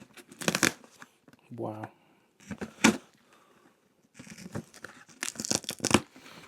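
Packing tape being ripped off a heavily wrapped box in several loud, rasping tears with pauses between them, interspersed with a voice.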